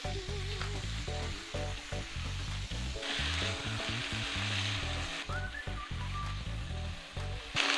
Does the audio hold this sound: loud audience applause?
no